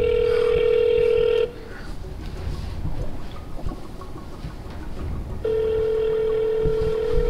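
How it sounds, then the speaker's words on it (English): A phone call rings out over a speakerphone, a steady electronic tone sounding loud and close for about a second and a half, then dropping to a muffled pause with faint background noise before the ring returns. "And I'm calling her phone right now."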